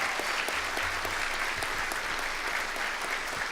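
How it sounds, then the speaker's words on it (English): Luncheon audience at a floodplain managers' awards event applauding the winners, steady continuous clapping from a roomful of people throughout, with no voices over it. "let's give a big round of applause."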